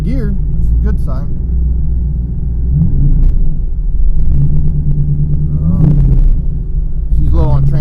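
Fuel-injected Jeep XJ engine revving under load while in gear, a steady loud low rumble that swells twice as the throttle opens, with voices talking over it.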